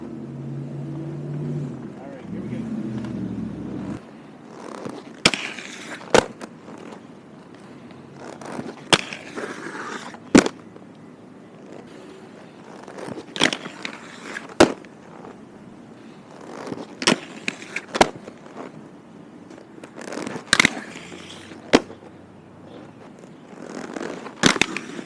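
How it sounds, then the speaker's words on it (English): Razors SL aggressive inline skates grind along an edge, with soft scraping rolls broken by a scattering of sharp, loud clacks and impacts over a long stretch. "I'm going to try some grinds."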